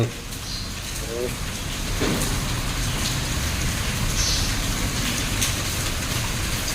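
Steady rain falls throughout as a dense, even hiss, with faint voices briefly audible near the start under the downpour.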